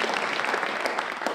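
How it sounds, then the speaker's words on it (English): Theatre audience applauding a competition organiser at the IBM Shield Competition 2013 in Buxton Opera House, Derbyshire: dense, steady clapping that fills the whole moment at moderate level, with no voices over it. "a round of applause for Shirley Ray"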